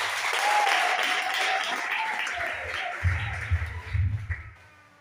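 A church congregation at a bishop's consecration claps in sustained applause, a dense wash of hands that fades slowly, with a voice speaking over it and low rumbles near the end.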